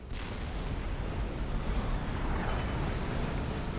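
Massive nuke explosion in a real-time strategy game, a broad roaring blast with sustained rumbling that fills the whole moment, loud and dense.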